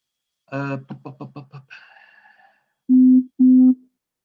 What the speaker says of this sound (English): the robot will reproduce the shutdown sound